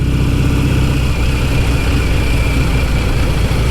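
A Royal Enfield Meteor Minor 500 twin motorcycle engine idles after warming up, a loud, steady, close-up rumble with an even low throb and no talk.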